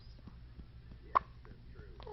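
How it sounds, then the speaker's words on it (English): A little girl lets out a single quiet, sharp hiccup close by, standing out briefly against a soft, low background hum. "This little girl has hiccups like crazy."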